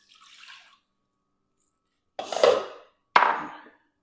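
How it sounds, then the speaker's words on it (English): A cup of water is poured into a slow cooker in two short, close splashes after a faint earlier rustle, with no talk over them. "I'm going to drop 1 cup of water in."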